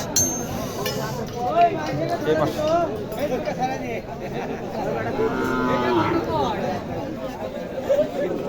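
Sahiwal cross cattle at the Naogaon cattle market moo repeatedly, several near and far calls rising out of a busy crowd babble, with people talking close by throughout.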